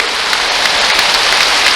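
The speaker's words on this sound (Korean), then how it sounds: "예수님께 박수" Worshippers at a church service break into applause, a continuous full patter of many clapping hands filling the room without pause.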